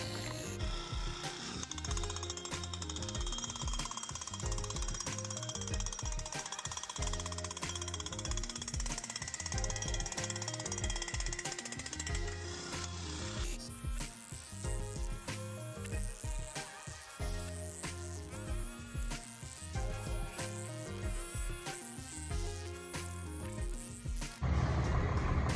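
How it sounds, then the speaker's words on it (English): Marquee tent being installed with a Stakinator tent stake driver, a long run of mechanical clattering and rapid repeated knocking at steady loudness, with a sharp change in tone partway through. "here is a demo of a marquee tent being installed"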